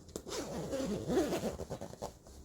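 A lap zipper on a sewn skirt is pulled in one long, continuous rasping run lasting a couple of seconds, close by and fairly quiet, with no voices.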